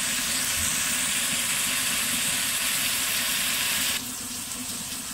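Steady broadband sizzling hiss of chaga frying on a rocket stove, constant and fairly loud, with a slight drop in level near the end; no voices.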